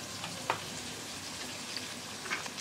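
Turmeric, chilli powder and green chillies sizzle steadily in a hot pan with faint crackles and a few light pops, heard up close with no talking.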